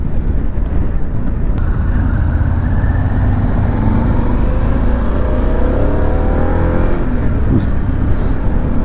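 A Harley-Davidson Pan America motorcycle on a test ride gives a steady, loud engine drone with road and wind noise throughout, the pitch shifting gently as it accelerates.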